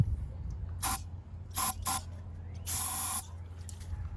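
Short hissing bursts of an aerosol can of starting fluid sprayed into an engine intake, two quick puffs then a longer spray, over a low steady engine hum.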